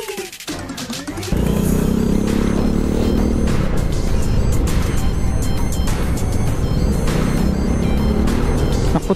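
Steady road traffic during a solo motorcycle ride on the Marilaque road toward Infanta, a loud continuous engine and road roar that starts after a brief quieter opening and carries on throughout.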